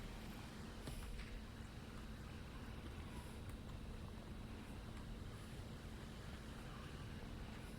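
A steady, low wind whooshes continuously with no breaks, a soft, even rushing that fills the background, in the video game Hogwarts Legacy.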